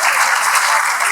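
Loud, dense applause from an audience at a mushaira in Patiala, a short continuous burst of many hands clapping close by.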